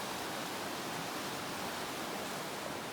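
Twintree Creek rushing beneath a backcountry bridge on the North Boundary Trail, a steady broadband wash of flowing water, close and unbroken with no voices.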